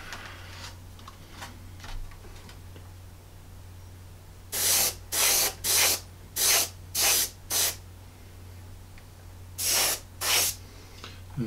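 Short bursts of spray paint hit the front edge of a model part, a run of about six hissing pulses followed by two more after a pause, close and crisp against a quiet background hum.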